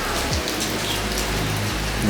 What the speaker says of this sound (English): So this is our weather here right now. Super rainy.